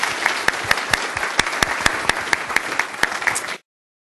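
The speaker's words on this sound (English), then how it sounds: "let's applaud" Audience applauding at the close of a panel, a few dozen hands clapping steadily with distinct sharp claps over a dense wash, lasting about three and a half seconds before cutting off abruptly.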